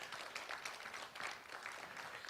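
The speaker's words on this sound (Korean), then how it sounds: "우리 문화재청을 위해서 박수 한번 부탁드립니다" Dense applause from a ceremony audience marking the 10th anniversary of cultural heritage care, steady clapping filling the whole stretch without pause, moderately distant.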